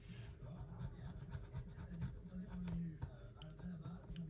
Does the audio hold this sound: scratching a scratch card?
yes